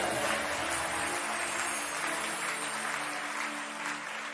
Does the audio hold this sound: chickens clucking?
no